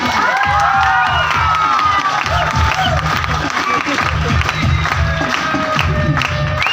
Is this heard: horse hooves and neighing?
no